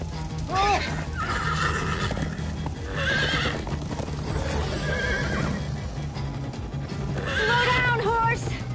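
A horse in the Minecraft Story Mode video game whinnies repeatedly over steady galloping clip-clop hoofbeats, loud and close, with speech mixed in.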